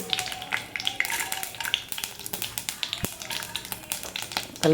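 A small amount of mustard seeds goes into hot oil and crackles with rapid, irregular pops close by. The bursts are quiet but continuous, with a faint voice now and then.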